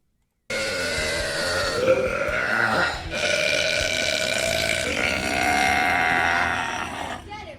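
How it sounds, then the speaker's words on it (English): A long, loud, deep burp that rumbles and shifts in pitch for several seconds, close up and alone after a brief silence. "We have the world's loudest burp."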